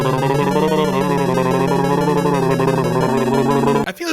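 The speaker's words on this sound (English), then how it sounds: "The castle level theme, is it fair to say it's not even a track?" The castle level theme from Super Mario Bros. plays loud and continuous, a dense, droning chiptune with clashing sustained tones that shift pitch a couple of times before cutting off abruptly near the end.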